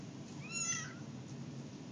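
A cat lets out a faint, high, thin meow once, somewhat distant and soft over a steady low background hum.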